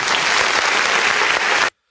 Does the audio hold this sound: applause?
yes